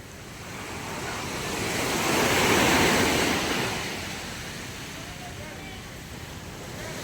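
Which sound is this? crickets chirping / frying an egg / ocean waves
ocean waves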